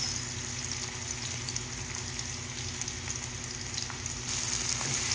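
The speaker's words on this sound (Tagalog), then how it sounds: "Ayan, isusunod ko na rin po ang ating sibuyas." Steady sizzling of garlic and onion sautéing in oil in a pan while cooking bitter melon fruit, a continuous close frying hiss with faint stirring.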